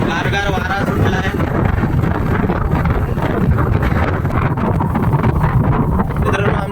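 Cool wind blows after rain on a road trip toward a waterfall, a steady, loud roar of wind buffeting the microphone throughout, with no break or change.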